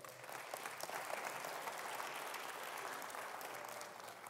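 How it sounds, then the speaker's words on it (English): An audience claps steadily at a church service, a dense, even wash of many hands that holds at a constant moderate level from start to finish, heard from a distance and with no cheering or talk over it. "Give him an applause."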